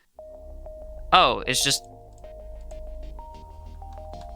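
Synthesized sine wave notes through a filter in an emo trap production: a steady tonal line holding and stepping between pitches, with a person briefly talking over it.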